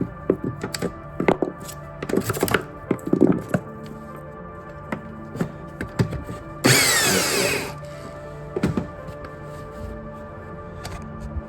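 A power drill whirs in short bursts with knocks and clatter between them while installing a van bed bump-out, then one longer, louder run of drilling midway through.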